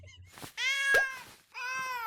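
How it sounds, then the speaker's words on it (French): A house cat meows twice, close and clear, each call a drawn-out tonal cry, with a brief sharp click between them and a pause before the second meow. "C'est juste le chat."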